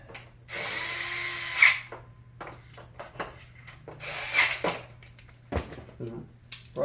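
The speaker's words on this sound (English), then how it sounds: "You're screwing it into aluminum, so you want to snug it up." A power drill drives screws into an aluminum clutch cover on a Duca bike, running in two short whirring bursts at close range, with clicks, taps and a steady background hum between them.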